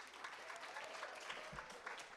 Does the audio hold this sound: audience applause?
yes